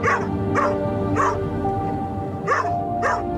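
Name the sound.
trainee assistance dogs barking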